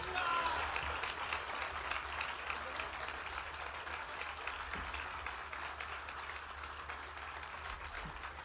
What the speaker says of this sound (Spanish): Agradecemos y despedimos con este fuerte aplauso